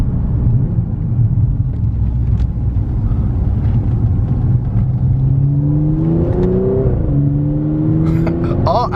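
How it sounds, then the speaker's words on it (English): An Audi accelerates with a loud, rumbling engine and exhaust that rises in pitch, followed by a quick exhaust burble near the end. "All Audis has that little fart."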